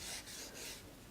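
Masking tape rubbed down over gold leaf on a picture frame, a close, dry scraping rasp in three or four quick strokes with brief gaps between them.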